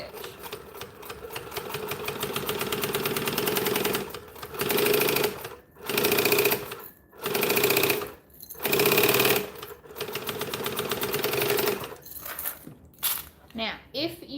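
A sewing machine stitches a bag, running in loud, close bursts of rapid mechanical clatter with short pauses between runs as it back stitches, and a few quick stops near the end.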